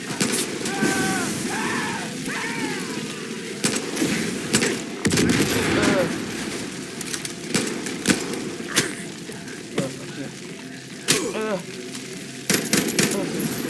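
Rapid gunfire from Far Cry New Dawn game combat, loud bursts and single shots scattered throughout under excited shouting, with an explosion-like boom partway through.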